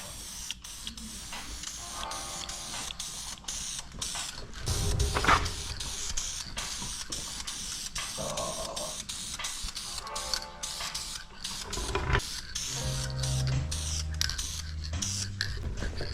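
Spray can hissing as paint goes onto a cleaned car alternator bracket for a 318 Charger street car, several short bursts under shop background noise.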